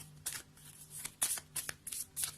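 A deck of cards is cut and handled close by, giving several short papery riffles and slaps in uneven bursts, quiet and without talking.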